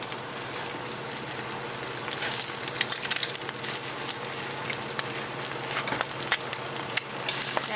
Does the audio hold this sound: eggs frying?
yes